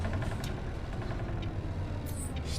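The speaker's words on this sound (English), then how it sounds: "I love the way the bus sort of shakes and vibrates, and you can hear all the rattles." City bus engine idling in a bus simulator video game, a low steady rumble with faint rattles and a brief hiss near the end, continuous and moderately quiet with no talking.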